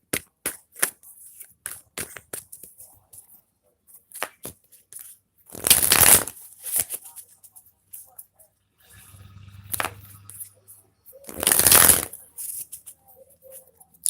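Tarot cards shuffled by hand in two loud riffling bursts, with quieter card handling and light taps between and a short low voice hum in the middle.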